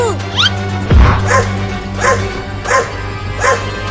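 A cartoon dog barks repeatedly in an evenly spaced run of four or five loud yelps over steady background music, with a thump early on.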